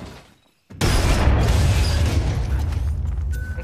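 A grenade blasts open a door in Apex Legends: after a brief silence, a sudden loud boom hits, followed by a sustained rumbling roar and scattered debris that slowly fade.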